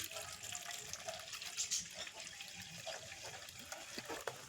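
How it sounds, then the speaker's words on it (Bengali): Water trickling and splashing as it is poured off settled potato starch, a faint, uneven stream under a low voice. "এবার ছেঁকে নিচ্ছি এইভাবে জলটাকে গড়িয়ে দিচ্ছি"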